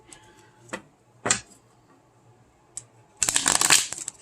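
A deck of major arcana tarot cards being shuffled up close, with a few short riffles spaced apart and then a longer, denser flurry of card noise at the end, with no voices.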